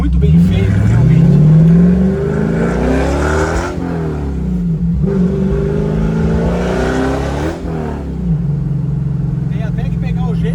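A Bianco-bodied prototype car with a V8 engine revs loudly and close by, its pitch rising and falling in repeated sweeps, with a voice talking over it.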